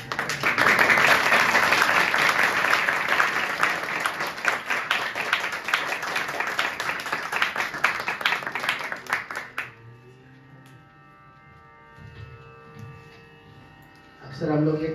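An audience claps loudly and steadily for about ten seconds, then the applause breaks off, leaving a much quieter room with faint tonal sounds.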